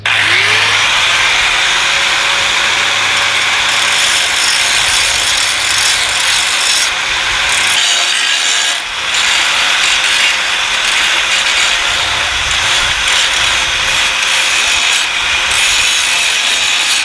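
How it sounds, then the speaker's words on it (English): Power tool grinding a piece of metal: a continuous, loud, harsh, high-pitched abrasive whine that holds steady for the whole stretch, with only a brief dip partway through and no talking. "So anyway, I'm gonna go to grinding."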